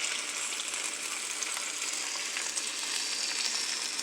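Chicken leg quarters fry in a covered pan, a steady hiss and crackle of hot fat that holds evenly for several seconds, close and moderately loud, with no talking.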